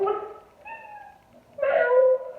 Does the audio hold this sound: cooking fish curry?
no